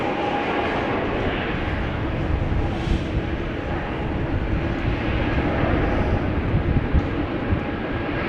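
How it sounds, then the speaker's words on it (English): A Bulgaria Air Bombardier C-Series 100 airliner takes off, a steady broad jet roar with a whining, complaining tone, sustained and fairly loud at a moderate distance. "That complaining airplane sound is the Bulgaria Bombardier C-Series 100 taking off to Sofia."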